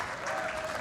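Crowd applauding and cheering at a women's singles lawn bowls match at the 2010 Commonwealth Games, a brief steady wash of clapping.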